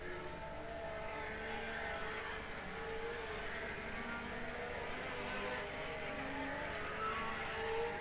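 BriSCA F2 stock cars race at Swindon in 1989, a distant, continuous drone of several engines rising and falling as the cars lap the oval.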